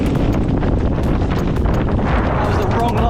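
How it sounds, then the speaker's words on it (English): Strong wind roars constantly across the microphone during a muddy, slippery UK enduro race, a dense, unbroken buffeting rumble that holds loud and steady throughout. "It's windy."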